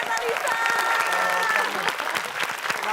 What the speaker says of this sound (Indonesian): Boleh kita beri tepuk tangan untuk Tina Talisa.